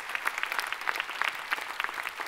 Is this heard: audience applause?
yes